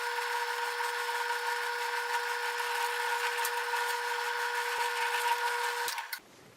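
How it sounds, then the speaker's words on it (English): A small power drill whines steadily at a high pitch for about six seconds, close by, drilling a 1/16-inch hole in wood, then winds down and stops. "So I'm drilling a 16th inch hole,"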